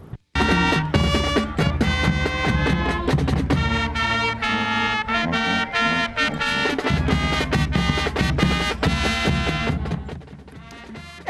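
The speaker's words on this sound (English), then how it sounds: "And that's the sound of the Mark Tree High School Band." A high school marching band plays at a Friday night football game in a stadium, with loud full brass and pounding drums carrying on without a break for about ten seconds before fading slightly at the end.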